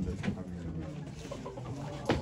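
Chickens clucking amid the crowd at an ornamental poultry auction in Ankara, a few short clucks rising over steady background talk and bidding voices.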